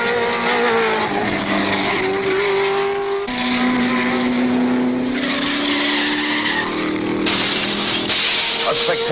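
Trans Am race cars at Sebring in 1970 roar past close by, engines rising and shifting pitch in overlapping waves with tire squeal and skidding, loud and continuous under a commentator's voice.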